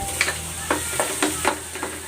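Tomatoes drop into a hot pan of pork ribs with a steady close sizzle, while a spoon stirs and scrapes in several distinct strokes, roughly one every quarter second, with no talking.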